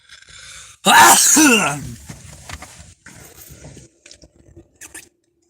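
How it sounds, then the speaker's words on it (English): A single loud sneeze bursts out near the mic, followed by quieter shuffling and mouth noises. "One moment, I gotta sneeze."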